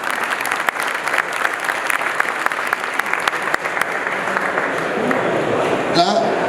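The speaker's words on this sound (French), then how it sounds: "On peut les applaudir tous les deux encore." Loud, sustained applause from an audience at an awards ceremony for installers, with steady dense clapping throughout and a voice speaking over it.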